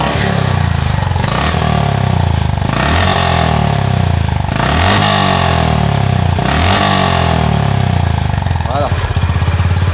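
Honda GB350S 2025 air-cooled single-cylinder motorcycle engine running at a fast idle, loud and close, with a steady deep thumping pulse and a few brief rev blips, while someone talks over it.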